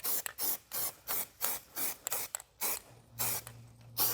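Trim coating sprayed from a can onto a DeLorean, heard as about ten short, loud, evenly spaced hissing bursts up close, with a faint steady hum entering near the end.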